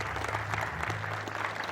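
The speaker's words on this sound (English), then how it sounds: "Let's have a big round of applause." An audience in an auditorium gives a big round of applause at a dialogue event with Erik Solheim. The clapping is even and sustained, with a low hum underneath and no talk.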